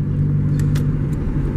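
A car running nearly out of fuel drives on toward a gas station, its engine a steady, loud low rumble heard from inside the cabin, with a couple of brief faint clicks above it.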